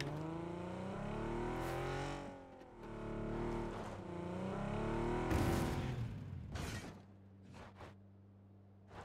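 Car engine in the PUBG video game revving and rising in pitch in several strong sweeps, then dropping to a steady low idle hum with a few sharp bursts of revs near the end.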